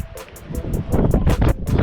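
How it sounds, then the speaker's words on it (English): Strong wind buffets the microphone outdoors at a chicken farm in heavy, roaring gusts that swell louder toward the end, with no voices. "As you can hear, it's just started getting ridiculously windy."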